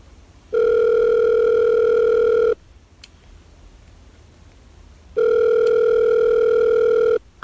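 Phone-call ringback tone: two long, steady electronic tone bursts of about two seconds each, separated by a quiet gap, clear and close with no talk.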